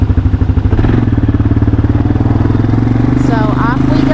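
Four-wheeler ATV engine running close by with a loud, steady pulsing chug and rapid rhythmic beat throughout, a voice briefly speaking over it near the end.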